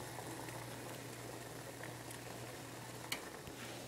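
Noodles cooking in a pot of boiling water on a stove, a quiet, steady bubbling and simmer with a low hum beneath and one small clink near the end, heard up close without talking.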